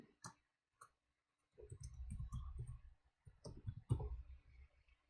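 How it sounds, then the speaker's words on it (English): Keyboard keys tapped while entering a username and password during Deepin 20 Linux account setup: a few isolated clicks first, then dense bursts of rapid typing in two runs, close and fairly quiet with no voice. "let's just type in username and then type in a super strong password"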